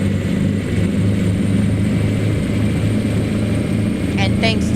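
A straight-piped Caterpillar 3406 truck engine in American Truck Simulator drones steadily and loudly throughout, a low, continuous rumble with a short voice near the end.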